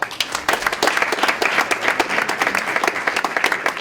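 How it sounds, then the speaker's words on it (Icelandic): An audience applauds after a speaker introduces a member of Iceland's 2015 national team, a brisk steady patter of many hands clapping at moderate distance. "við skulum gefa hann gott klapp"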